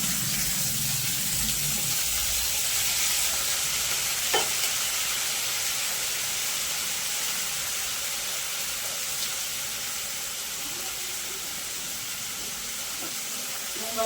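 Shredded cabbage being stirred and fried in a pan, a steady close sizzle with scraping stir strokes and a faint hiss of steam running throughout, no voices.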